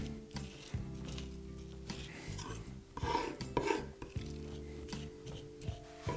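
A knife blade is pressed flat onto garlic and pushed across a cutting board, giving rasping, rubbing scrapes in several short strokes, close and fairly quiet, with no speech.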